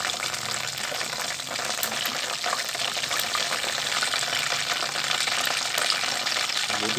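Buffalo chicken wings fry in hot oil with a dense, steady crackling sizzle that stays loud and close for the whole stretch, with no pauses.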